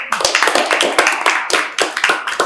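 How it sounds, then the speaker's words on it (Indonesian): Students in a class clap together in a brisk, dense burst of applause, close and loud, lasting a couple of seconds without pause. "beri aplaus"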